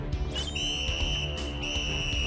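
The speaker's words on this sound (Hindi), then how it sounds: "विसल ट्राई करता हूँ।" A shrill, steady whistle tone sounds continuously for about two seconds over a low, rumbling background noise, in a children's cartoon.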